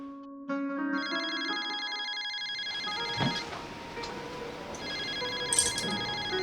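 A mobile phone ringtone plays, a repeating melodic tone that starts abruptly and rings steadily for several seconds at moderate level, then continues more faintly amid light room noise.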